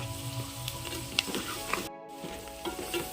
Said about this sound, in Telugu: ఈ అల్లం వెల్లుల్లి పేస్ట్ పచ్చివాసన పోయేంత వరకు ఫ్రై చేయాలి.